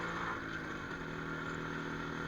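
A 1985 Yezdi motorcycle engine drones steadily while engine braking, a continuous low mechanical hum with a buzzing harmonic layer and wind noise, loud and close with no talking.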